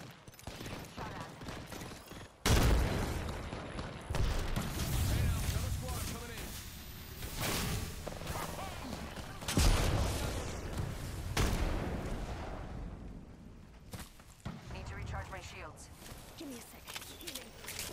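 Apex Legends gunfire fills the scene with loud bursts of automatic shots and sharp single blasts, arriving in clusters with short lulls between them, while a player talks over the action.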